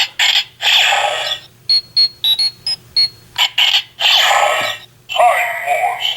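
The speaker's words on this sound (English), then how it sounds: "the second time you play a Time Force key, it also plays the communicator beep" A Power Rangers Legendary Morpher toy emits loud electronic beeps and chirps in short bursts, with longer synthetic sound effects between them.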